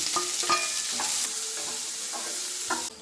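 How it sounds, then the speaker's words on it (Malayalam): Green chillies and two medium onions sauté in oil for a millet upma, a close continuous sizzle broken by repeated scraping stirs of a spoon against the pan, no talking. "ഇതൊന്നും നന്നായിട്ട് വഴറ്റിയെടുക്കണം"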